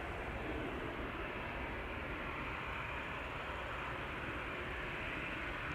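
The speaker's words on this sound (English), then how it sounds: "KLM Embraer 190 to Aberdeen is making its way over to the runway threshold" A KLM Embraer 190 jet taxis toward the runway threshold at Schiphol with a steady, even engine rumble and whine, continuous and moderately loud throughout.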